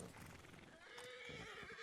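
A horse whinnies in a video game over a dense, noisy background, with hooves clopping beneath it.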